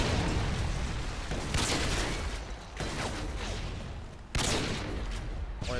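Sniper rifle fire in the video game Call of Duty MW2, a few loud gunshot bursts with booming tails over a continuous dense game soundscape, no voices.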